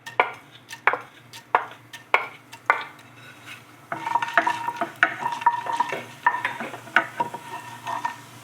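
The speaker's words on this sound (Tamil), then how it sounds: "நம்ம கடுகு, கடலப்பருப்பு, உளுத்தம்பருப்பு நம்ம உள்ள போட்டுக்கலாம்" Mustard seeds, chana dal and urad dal hit hot oil in a pan for a tempering; sharp spoon taps come first, then a bright crackling sizzle with popping seeds, close and fairly loud.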